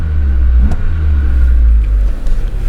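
A 1988 Honda Civic Shuttle EF2 engine runs at a steady deep rumble while driving, with a constant low drone inside the car and no talking.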